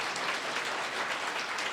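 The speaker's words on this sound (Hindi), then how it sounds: "कितने लोग जोर से ताली बजाएंगे" A church congregation at an Easter Sunday service claps loudly together, a dense, even wash of applause that stays steady and close throughout.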